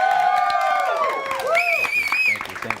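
A studio audience claps and cheers as a guest is introduced and walks out on a comedy show, a steady close wash of applause with rising whoops and shouted voices throughout.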